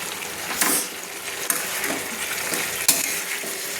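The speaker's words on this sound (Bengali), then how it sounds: "এইভাবে একটু ফুলকপিগুলোকে আমি মশলার সঙ্গে কষিয়ে নিচ্ছি" Already-fried cauliflower florets stir-fried with spices in a pan, a steady hiss of frying under repeated scraping and clattering strokes of a spoon, with sharp metallic knocks near the middle and end.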